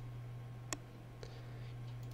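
Two soft computer mouse clicks, a sharp one followed by a fainter one about half a second later, sound over a steady electrical hum.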